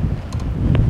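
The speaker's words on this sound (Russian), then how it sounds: "Ох и ветер, с ума сойти, а?" Strong wind in Sloviansk, Ukraine, on a May evening buffets the microphone in a steady low rumble, with a couple of faint brief clicks on top and no voices.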